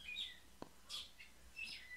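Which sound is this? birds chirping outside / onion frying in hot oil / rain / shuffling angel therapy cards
birds chirping outside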